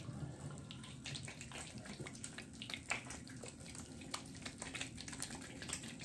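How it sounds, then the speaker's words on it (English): Steady running tap water spattering as hands are wetted at a sink before lathering shave cream, a continuous, faint splashing hiss with small irregular drips and no voices. "Let me go ahead and wet my hands"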